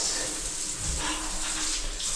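Strong, high-pressure shower water runs steadily in a large, newly built house, a dense continuous hiss close by with no one talking.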